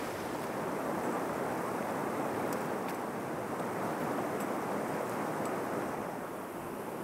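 Hikers wading across a shallow stream with awkward stones in the Käsivarsi wilderness of Finnish Lapland, flowing water rushing steadily and loudly throughout with no voices.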